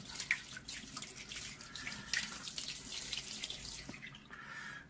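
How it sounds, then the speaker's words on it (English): Tap water runs steadily over a SkyWatcher 300P 12-inch Flextube Dobsonian telescope mirror, a close continuous splashing and trickling with a few brighter drips and no talking. "I will turn the mirror a little bit just to make sure that all corners of it is receiving the water."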